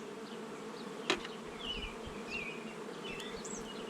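Honey bees buzz inside an open hive, a soft, close, continuous drone with individual bees whining past, plus a single sharp tap partway through.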